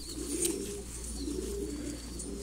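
Large pet pigeons give soft, repeated cooing calls at close range over a constant low electrical hum, with no one speaking.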